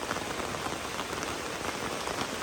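Steady rain falls on a house in a rural village, a dense even hiss of drops on surfaces that runs unbroken throughout, with no voices.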